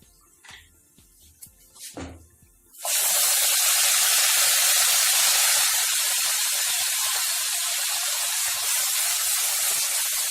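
Onion paste dropped into hot oil with browned cumin for an elephant foot yam masala curry bursts into a loud, steady sizzle after a few quiet kitchen clatters, hissing strongly and evenly to the end.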